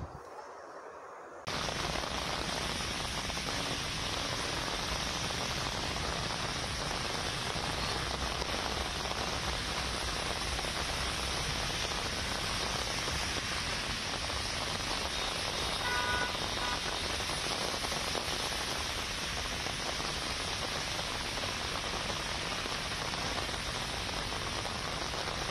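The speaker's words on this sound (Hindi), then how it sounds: "में बारिश की भी वीडियो सामने आई" Sudden rain in Noida falls as a dense, continuous hiss that starts abruptly and holds steady and fairly loud throughout, with no voices.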